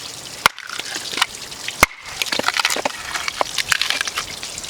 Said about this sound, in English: I'll try to split this in half here